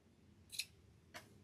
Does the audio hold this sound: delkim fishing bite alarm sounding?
no